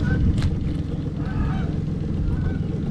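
Geese honking by a river, several loud nasal calls early on and fainter ones later, heard over a steady low rumble of wind and outdoor noise at a fishing spot.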